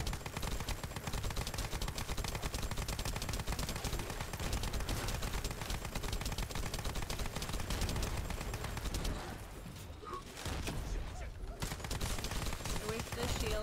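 Turrets in the sci-fi shooter The First Descendant fire without letup, a dense, rapid stream of gunshots that runs almost the whole time and dips only briefly near the end.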